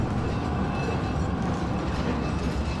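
A mine cart train rolling on rails in Resident Evil 4 gives a steady, loud rumbling clatter that holds constant throughout, with no speech over it.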